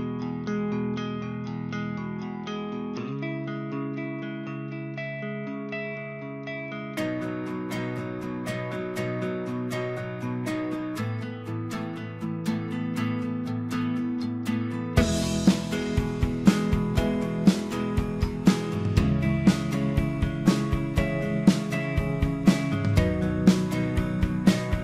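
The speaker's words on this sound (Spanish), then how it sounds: "No tiene voz, solo hay guitarras, un sintetizador, un piano eléctrico," Instrumental song with no vocals built from guitars, a synthesizer, an electric piano and Addictive Drums 2 drums, starting sparse with sustained tones and thickening into a fuller mix as the drums enter near the end.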